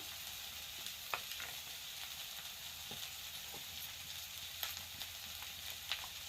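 Cumin seeds frying in oil for a cabbage dish make a quiet, steady sizzle dotted with sparse little pops and crackles, heard close with no talking.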